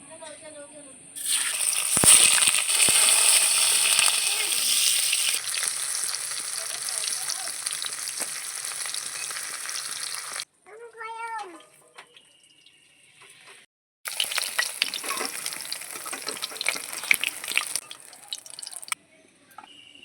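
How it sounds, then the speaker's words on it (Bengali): Paneer pieces fry in hot mustard oil in a wok, producing loud bursts of crackling sizzle that stop for a few seconds, then return strongly, with sputtering pops and a short scraping clatter in the pause. "কড়াইতে তেল দিয়েছি, তেল গরম হয়ে গিয়েছে, এবার আমি পনিরগুলো একে একে ভেজে নেব"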